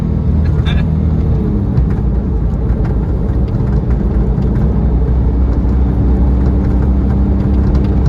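A car accelerates on a circuit track, its engine droning loud and steady at close range while a person talks over the noise.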